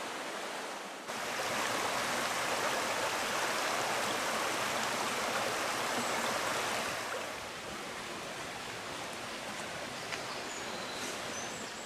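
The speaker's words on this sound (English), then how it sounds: "From here you can see the first waterfall." A waterfall at Pecker Falls drops over sandstone, giving a steady, dense rushing roar that fills the whole stretch. It is loud and continuous, softening slightly near the end, with no voices.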